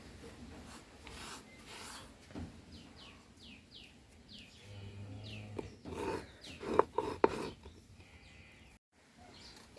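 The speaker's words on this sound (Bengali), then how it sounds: "আমি প্রথমে জিরাটা বেটে নিই।" Cumin seeds are ground by hand on a grinding stone with soft, repeated rubbing and rasping strokes, faint and close, while birds chirp in the background.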